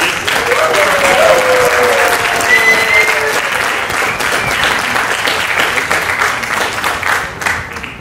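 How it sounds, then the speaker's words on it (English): An audience at a conference with Jean Paul Gaultier and Thierry-Maxime Loriot applauds Morgane, loud sustained clapping from a large crowd that holds strong for several seconds before slowly thinning, with a few cheers or voices in the mix. "Maybe we can applaud Morgane for this."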